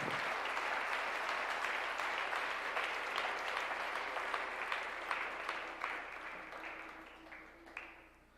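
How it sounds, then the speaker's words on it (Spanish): Congregation in a church bursting into sustained applause, dense and steady before gradually thinning out toward the end. "Eso merece un aplauso más grande para Él"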